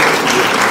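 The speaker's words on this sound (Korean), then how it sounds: "박수 한번 주시죠" A packed church youth group bursts into thick, continuous applause during a Korean sermon, a short, loud wash of many hands clapping at once with no talking.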